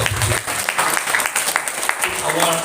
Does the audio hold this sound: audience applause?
yes